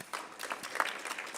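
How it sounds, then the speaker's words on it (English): Applause from the audience at a San Bernardino city council meeting, a brief patter of scattered clapping at moderate distance, steady and fairly soft throughout. "Let's give her a round of applause"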